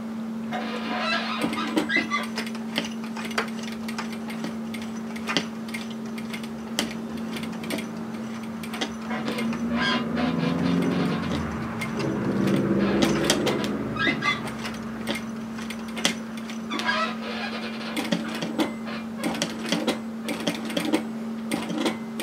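A hand-cranked sewing machine works slowly over a bulky pressed centre fold in a shacket's fabric. Soft irregular ticking and clicking run throughout, with a steady low hum and a brief denser stretch of effort midway, no talk.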